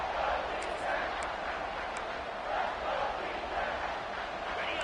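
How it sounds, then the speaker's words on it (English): Football stadium crowd roaring at the start of the fourth quarter, a steady wash of loud, sustained cheering with slight swells in intensity and no distinct individual voices. "No fall off from the noise or intensity from this crowd as we start the fourth quarter"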